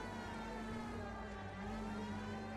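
Police car siren in the 1940s Los Angeles driving game L.A. Noire, a steady loud wail held throughout with engine and road rumble underneath.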